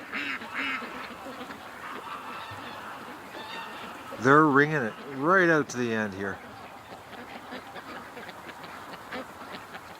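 Ducks and geese at a lake in the evening give a few loud, nasal honking calls in a short cluster, with someone talking nearby before and after over quiet outdoor background.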